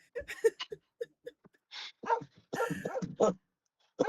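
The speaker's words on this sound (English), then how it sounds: "I have my dog with me." A dog gives a series of short soft barks and yips followed by whimpering, close by and fairly quiet, in brief irregular bursts with pauses between.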